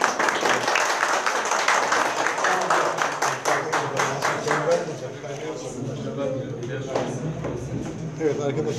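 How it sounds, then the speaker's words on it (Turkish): At an end-of-term school ceremony, students clap together in brisk, close applause for about five seconds before it dies away and a speaker talks over the quieter room. "Evet, alkışlıyoruz değil mi arkadaşlar?"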